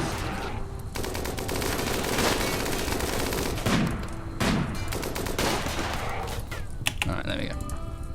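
Mechanoid gunfire in Rimworld, dense rattling bursts of rapid shots running almost continuously at close, loud level, with a few sharper cracks standing out.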